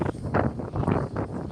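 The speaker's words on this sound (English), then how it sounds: "Oh, the wind." Wind blowing outdoors at Epcot near Spaceship Earth, rhythmic gusts buffeting the microphone in close, loud pulses.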